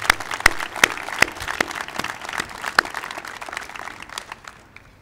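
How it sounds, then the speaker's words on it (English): Audience at a university address applauds its retirees with steady clapping, crisp individual claps standing out over a softer crowd wash that thins toward the end. "let's give our retirees a round of applause"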